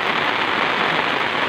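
Heavy rain pouring steadily on a village, a dense, continuous hiss of drops on surfaces, loud and close with no pauses.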